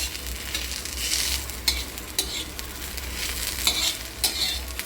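Okra (bhindi) frying in oil, a steady sizzle broken by repeated scraping stirs of a spatula in the pan, close and fairly soft.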